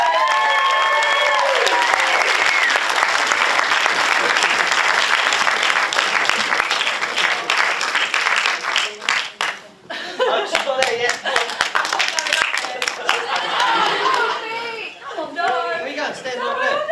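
A live Q&A audience bursts into loud, sustained applause for a performer, dense clapping from a close crowd with scattered chatter and light laughter mixed in, thinning to sparser claps before swelling again.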